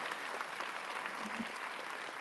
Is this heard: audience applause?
yes